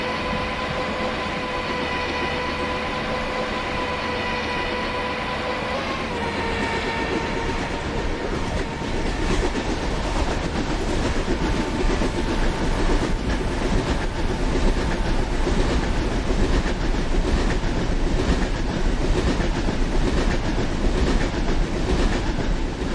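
Sayaji Nagari Express train running at speed over 100 km/h, a steady loud roar with rhythmic clickety-clack of wheels over rail joints, steady throughout with a tonal hum fading early on.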